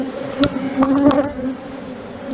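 Honey bees buzz close up in an opened hive, a loud, continuous drone with a few sharp ticks and brief taps over it.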